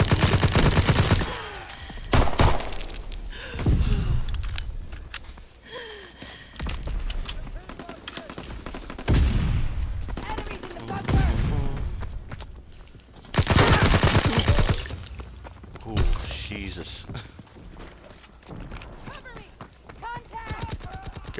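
Heavy gunfire from Call of Duty: WWII multiplayer, including a trench gun, rattles almost continuously as loud bursts and rapid shots come in waves, with people talking over the chaotic firefight.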